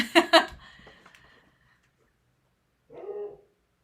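Dogs barking in several sharp, close barks at the start, then fading whimpers, a pause, and a short second burst of barking near the end.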